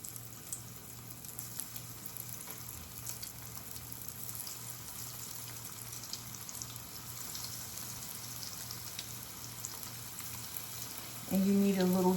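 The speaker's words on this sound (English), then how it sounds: "Okay, so we're just gonna place a couple of pieces into the oil." Zucchini pieces fry in hot oil, a faint steady sizzle that jumps to a louder crackle near the end as more pieces drop into the pan.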